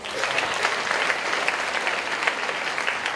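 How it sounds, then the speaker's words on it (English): A school assembly audience of middle and senior school students claps for nominated girls in one continuous, even round of applause that stays full and steady throughout. "can you please give them a big round of applause?"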